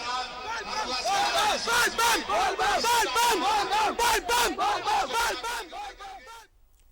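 Crowd of devotees at a packed Shiva temple loudly chanting Har Har Mahadev in unison, the rhythmic call repeating in steady waves of many voices before cutting off near the end.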